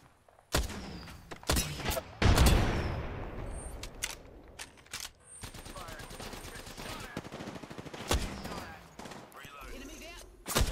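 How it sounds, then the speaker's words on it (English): Gunfire in Apex Legends: sharp rifle shots and rapid bursts crack out in clusters, some close and punchy, others trailing into continuous automatic fire, with a heavy thud early on and brief quieter gaps. "Shots fired, and they're hitting me."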